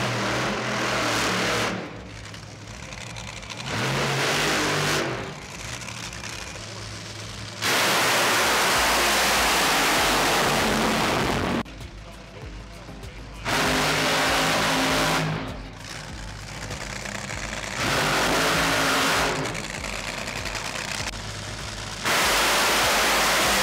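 Top Fuel dragsters race at the NHRA Arizona Nationals, each pass a loud, harsh roar lasting several seconds that alternates with quieter stretches of crowd and ambient noise.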